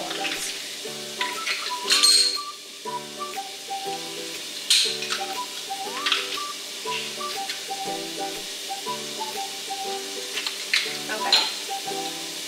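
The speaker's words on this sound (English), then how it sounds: "We're just gonna cook the onions until they're like caramelized" Onions and garlic frying in a pan for tacos, a steady close sizzle with occasional clinks of a utensil and stirring, while a voice speaks briefly.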